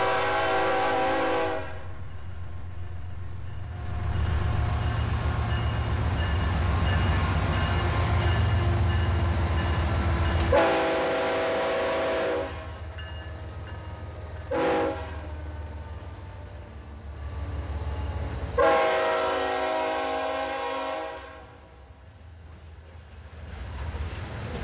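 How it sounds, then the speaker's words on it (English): An ethanol freight train rolls through a siding at restricted speed, a low rumble of wheels and wagons with several loud horn blasts in between, heard at moderate distance. "this is an ethanol train"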